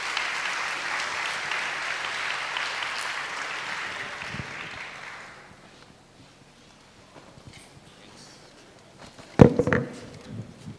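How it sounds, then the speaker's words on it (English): Audience applause for panelists at a global forum livestream, sustained clapping for about five seconds that dies away, followed by quiet room noise and a thump. "please give our panelists a big round of applause"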